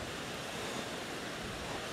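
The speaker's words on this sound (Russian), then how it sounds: "Ветер дует какой страшный." Strong outdoor wind roars steadily around a late-September garden with greenhouses, a dense broadband rush with gusty texture close to the microphone, no voices.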